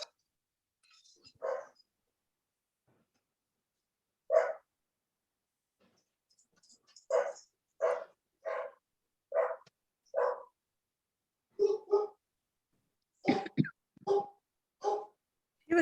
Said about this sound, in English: You have a dog in the background.